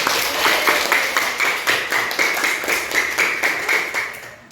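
A classroom of students clapping their hands together in a loose, fairly rhythmic burst of distinct claps, close and loud, lasting a few seconds before fading.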